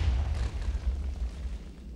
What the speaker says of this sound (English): So all I'm going to do is trigger this crazy explosion.